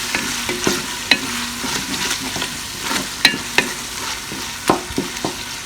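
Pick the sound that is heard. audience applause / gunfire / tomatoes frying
tomatoes frying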